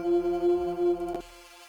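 A clean drone synth preset for a techno track, sounded before any distortion, holds a steady tonal hum with a subtle pulsing swell, then flares briefly and drops to a quieter sustained tone at the end.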